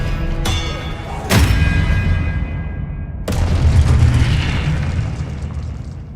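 An Expelliarmus spell cast in Hogwarts Legacy sounds as sharp bright cracks followed by a heavy booming blast, with a second impact and rumbling tail over steady game ambience.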